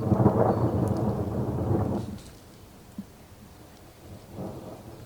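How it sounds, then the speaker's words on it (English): A loud, close rumble of thunder during a storm rolls for about two seconds, then fades to near quiet before a fainter second rumble swells at the end; a soft rustle of rain sits under it. "That's thunder."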